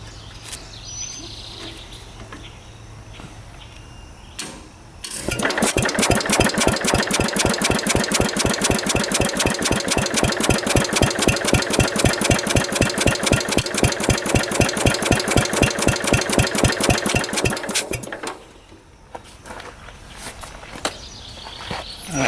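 A 1950s mini tractor's Briggs & Stratton single-cylinder engine starts and idles with a fast, even, loud putter for about thirteen seconds close by, then cuts off abruptly, leaving quiet background.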